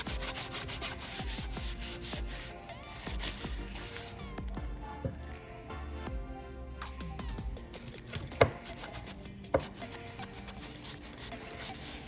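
A hand rubs steadily back and forth across a wooden surface, giving a continuous dry scrubbing sound with a couple of sharp taps near the end.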